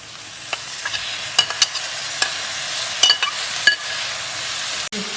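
Chopped tomatoes tossed into a hot pan of softened masala for a mackerel pollichath fry, with a steady close sizzle and several sharp spoon clinks and scrapes as they are stirred.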